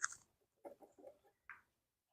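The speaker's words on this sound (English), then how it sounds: "He's still a sweet rooster." A rooster and hens give short clucks and soft calls in a backyard flock, a few separate bursts close by and fairly quiet, with no talking.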